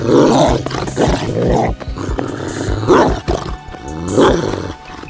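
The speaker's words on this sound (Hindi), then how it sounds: "अरे ये कुत्ता मेरे पीछे कैसे पड़ गया?" A dog snarls, growls and barks loudly while chasing a man in an animated Hindi story, its rough cries coming in repeated bursts.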